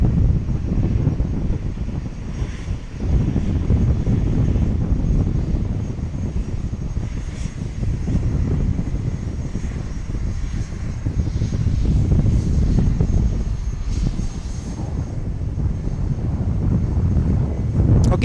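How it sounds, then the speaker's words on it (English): A Boeing 737-8 MAX departs runway 31 right at Dallas Love Field in tropical storm weather, its jet engines roaring loud and sustained for the whole stretch, with gusty wind buffeting the microphone. "Max departure, 737-8 max departure here on runway 31 right."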